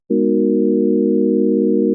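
A pure, steady sine tone from a free software synth sounds alone for about two seconds, starting abruptly and holding at constant loudness before a quick fade.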